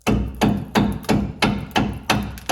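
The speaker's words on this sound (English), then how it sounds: "friendly taps with the rubber mallet to loosen up that jam nut" A rubber mallet strikes a seized outer tie rod jam nut on a 2005–2012 Chevrolet Colorado/GMC Canyon, giving six evenly spaced, dull, thudding knocks that ring briefly, close and loud with no voices.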